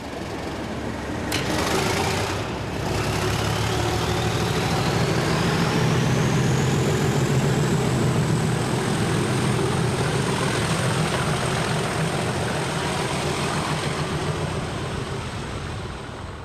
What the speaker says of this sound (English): the replacement engine arrives, and miraculously, it's a freight 37